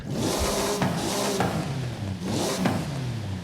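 A Hemi engine in a Dodge Hennessey Mammoth 6x6 in Forza Horizon 5, revving in two long rising surges with a brief drop between, loud and close with no voices.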